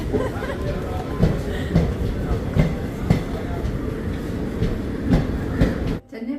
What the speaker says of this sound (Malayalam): നമ്മളെ തനിച്ചാക്കി നമ്മുടെ ട്രെയിൻ പോവുകയാണ്